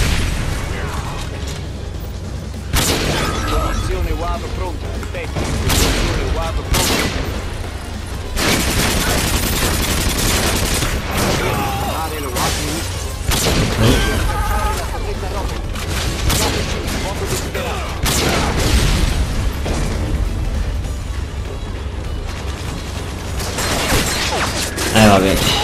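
Video game gunfire from Call of Duty Modern Warfare 2, with dense repeated bursts and booms running nearly continuously at steady loudness throughout, mixed with game effects.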